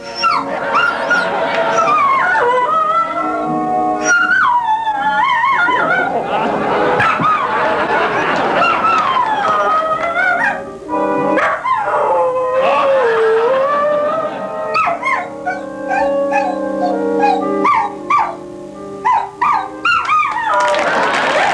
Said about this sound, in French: on va regarder un chien britannique exprimer ses doléances à Margaret Thatcher